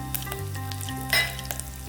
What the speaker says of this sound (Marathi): ह्यात आपण आहे ना कढीपत्त्याची पानं घालून घ्यायचे.